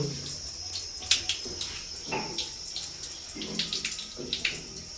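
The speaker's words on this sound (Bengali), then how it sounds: "ভালো করে হাতটা ধুয়ে নে" A child's muddy hands being washed under running water outdoors, with intermittent splashing and trickling in short bursts against a steady high background hiss, and birds faintly audible.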